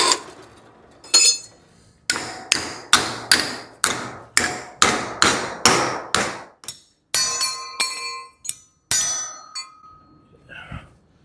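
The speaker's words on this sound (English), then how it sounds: "when you bend it with that big hammer, you're hitting it here" A big hammer strikes bent metal stock in a workshop during a custom 1956 International COE truck build, a run of loud ringing blows, a dozen or so in quick even rhythm, with clangy metallic resonance and pauses between groups.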